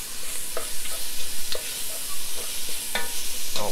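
Spices and garlic frying in a stew pot for Georgian chicken stew as a spoon stirs them, a steady sizzle broken by scraping strokes roughly every second, close up with no talk.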